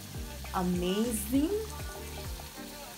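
Beef and onions frying in a pot while they turn golden for a beef pilau give a steady, close sizzle throughout, with a person talking over it.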